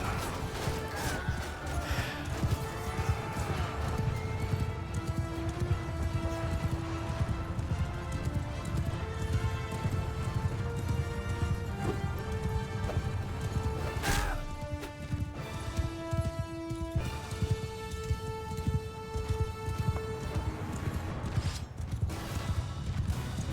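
Horses galloping across a battlefield in Mount & Blade II Bannerlord, steady clip-clop hoofbeats running throughout over dense battle noise and a continuous music score, with occasional crashes and a whinny.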